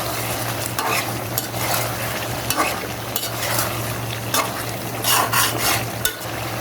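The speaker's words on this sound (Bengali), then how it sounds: "এখন এটাকে আবার মিক্স করে দিব।" Chicken stew is stirred in a pot over heat, with a utensil scraping and clinking against the metal over a steady close simmer and sizzle, the strokes coming in uneven bursts.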